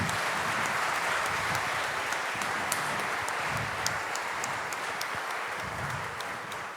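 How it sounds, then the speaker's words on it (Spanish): A crowd at an event applauds the young organizers, with sustained even clapping and a few sharper claps standing out, continuing for several seconds without speech. "Y un aplauso grande para los jóvenes que organizaron este evento tan importante."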